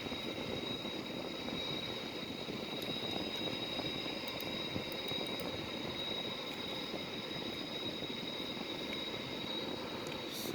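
A Sukhoi Su-30MK2 jet sits with its canopy closed while its engine runs in a steady, broad roar with a thin whine on top, continuous and even throughout.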